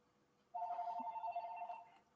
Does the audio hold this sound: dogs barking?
no